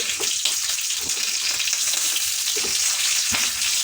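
Pork sizzling and crackling as it fries in hot oil over a wood fire, a steady broadband hiss with scattered pops, fairly close and alone without talk.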